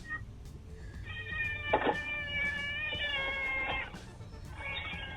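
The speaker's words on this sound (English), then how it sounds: "That's my cat." A cat meows in a long, drawn-out, wavering cry, fairly close and clear over a low background hum, with a short break partway through before the cry resumes.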